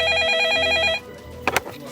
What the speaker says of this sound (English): fixing my eyes on the phone in front of me, almost daring it to ring